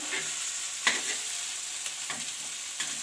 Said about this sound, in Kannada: ಹಿಂಗೆ ತವಾ ಫ್ರೈ ಮಾಡ್ಕೊರಿ ತಿನ್ನಿರಿ